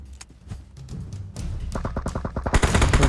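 Gunfire in the PUBG Mobile battle royale game, a burst of rapid automatic shots that grows denser and louder toward the end, crackling against a low rumbling background.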